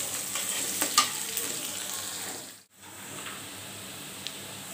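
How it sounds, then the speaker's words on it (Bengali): Chopped onion and garlic frying in a pan for a chicken mezbani-style dish, a steady close sizzle with stirring scrapes and occasional pops, briefly dipping near silent midway before resuming. "পেঁয়াজ কুচি, রসুন কুচি"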